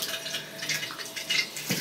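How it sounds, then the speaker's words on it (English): Water from a shower head rinses out the inside of a rotary tumbler used for cleaning brass, a steady close hiss of spraying and splashing. "The shower head's useful here for just cleaning up the inside of this."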